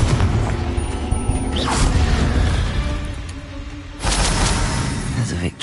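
Confringo spell explosion in the video game Hogwarts Legacy, a loud, sustained rumbling blast with a whoosh, followed by a second heavy surge of fiery roar.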